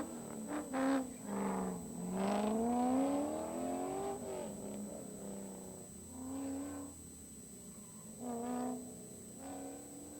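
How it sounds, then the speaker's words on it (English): A 2008 Corvette Z06 on an autocross course, its engine revving up and down in repeated rising and falling sweeps as it accelerates and brakes through the layout, heard from a distance, with no talking. "Eric Brown, SSM number 55 on course, driving a 2008 Corvette Z06."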